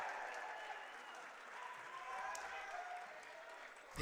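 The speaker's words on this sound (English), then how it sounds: "Yeah, I love the crowd reaction" Crowd at a varsity high school basketball game cheering and applauding after a basket, a sustained wash of noise heard from a distance in the gym.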